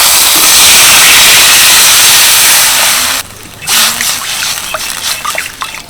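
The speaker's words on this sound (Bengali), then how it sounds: "এবার দিয়ে দিচ্ছি পাঁচশো বাটির এক বাটি জল" Water poured into a hot pan of semolina and fresh ginger erupts into a loud, steady steam hiss, then abruptly quietens to softer bubbling and popping crackles close by, with no talk.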